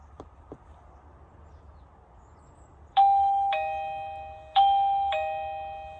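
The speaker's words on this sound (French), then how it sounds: "Et on a le carillon qui va sonner à la maison." An ieGeek Bell J9 smart doorbell's two-tone electronic chime rings twice in a quiet room at home, each ding-dong clear and ringing out before fading.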